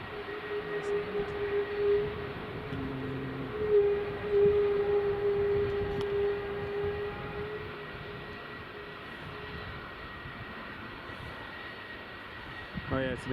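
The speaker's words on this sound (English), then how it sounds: "I think this is a KLM 739." KLM Boeing 737-800 at Edinburgh Airport, a steady engine whine and broad rumble holding throughout, moderately distant, with people talking over it.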